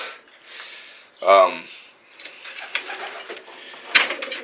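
A single short pigeon coo rises briefly over a quiet background inside a pigeon loft, with faint rustling and a sharp click near the end.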